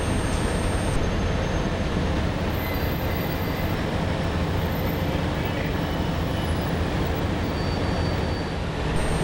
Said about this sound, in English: the Rail Transport Museum's 44-11 is seen here at Central Station shunting carriages